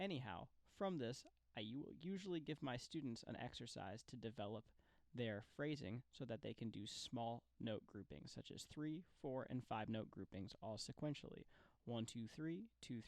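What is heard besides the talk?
No distinct noise like a dog, phone or traffic.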